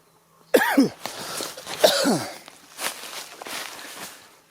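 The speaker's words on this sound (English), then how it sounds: "Coughing badly because I inhaled the mosquito." Two harsh, rasping coughs close by, each a short burst with a rough tail, followed by quieter breathy noises and shuffling.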